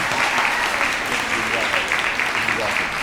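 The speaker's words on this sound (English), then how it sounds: "a strong round of applause for Dr. Ko and for this program this evening" Strong, dense applause from an audience at an annual benefit concert, continuous and fairly close throughout the short stretch.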